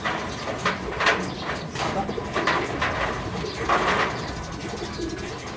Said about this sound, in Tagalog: Gandang mga ibon.